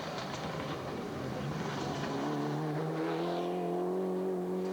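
A Mitsubishi four-wheel-drive rally car drives at a 1999 rally, its engine droning steadily at moderate distance, the pitch climbing smoothly as it revs up through the last couple of seconds.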